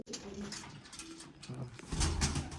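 Domestic pigeons kept by hobby breeders coo in low, repeated throaty phrases close by, with light background rustle and a brief murmur of voices.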